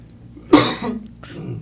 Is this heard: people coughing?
yes